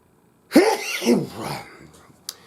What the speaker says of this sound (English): And now I'll sneeze 100 times.